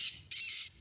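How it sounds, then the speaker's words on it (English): A seagull squawks as a sound effect in an audio drama, two brief harsh cries close together, fairly faint and alone. "The gull squawked louder,"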